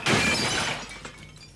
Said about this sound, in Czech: Obrácená lampa spadla a rozbila se.